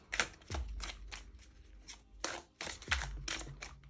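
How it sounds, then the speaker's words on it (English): Quick riffling bursts of tarot cards being shuffled, several rapid flutters with short pauses between them, close and fairly quiet. "Shuffle up one more time."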